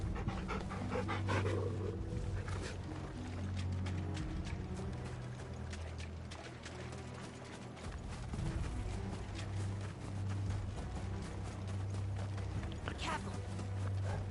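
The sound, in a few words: dog panting in Final Fantasy XVI video game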